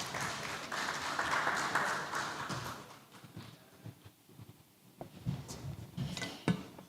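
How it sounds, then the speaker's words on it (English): Applause in a hall at a wealth summit as a presenter from an asset management firm walks up, a broad wash of clapping that thins out and fades partway through, leaving a few scattered claps and faint room noise. "A round of applause for him as he comes, please."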